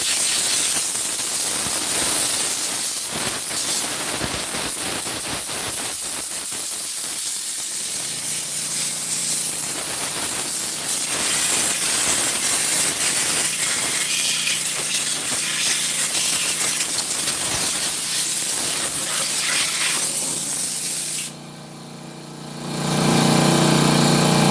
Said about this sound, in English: I'm about to blast it with air.